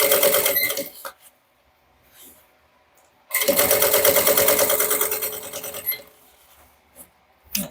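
Sewing machine running in two separate bursts while stitching a close safety seam along the edge of a crossbody bag, each run a steady rapid whir with a brief pause and light handling noises between.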